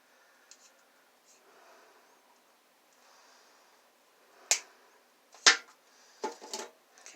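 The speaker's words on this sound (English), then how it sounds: "I'll cut them back as far as I can" Wire cutters snip through linear actuator motor wires in a quiet room, giving a few sharp, close clicks spaced a second or so apart.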